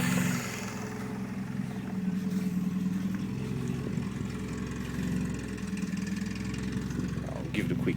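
A Toyota Corolla KE30 engine, started for the first time in 18 years with its fuel tank removed, idles in a steady, even rumble close by from start to finish.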